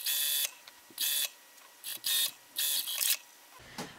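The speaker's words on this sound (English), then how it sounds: "I'm just gonna go ahead and sew the whole thing on the sewing machine" A sewing machine stitches a T-shirt neckband in several short bursts of whirring stitching separated by brief pauses, close and clear with no talk.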